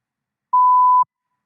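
A single clean electronic tone signals the start of a TOEFL speaking-test response, steady and mid-pitched, lasting about half a second in otherwise total silence.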